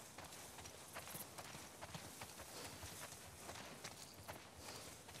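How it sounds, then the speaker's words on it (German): In The Last of Us Part II, a horse plods behind the player. Its soft, faint hoofbeats sound in an even walking rhythm over a quiet outdoor background. "unser Pferdchen, ich taufe ihn jetzt mal Karlchen, der folgt uns ja natürlich"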